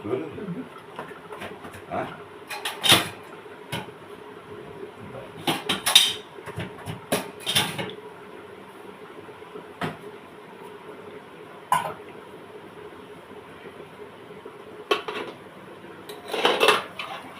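A lid clatters onto a metal pot of thin tengra fish curry with potato, bottle-gourd stalks and lentil dumplings, giving several sharp clanks and scrapes spread across the span, with a voice faintly in the background.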